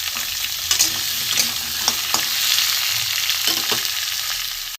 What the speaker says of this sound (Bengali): কুমড়ো আলু ভেজে নেবো